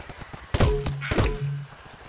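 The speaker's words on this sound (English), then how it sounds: "Is that somebody trying to shoot me?" Gunfire in the PC game Plants vs. Zombies: Garden Warfare comes as two loud, sharp shots about half a second apart, each followed by a short rumbling decay.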